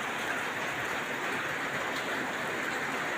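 Heavy rain pours down in a dense, unbroken hiss, loud and constant throughout.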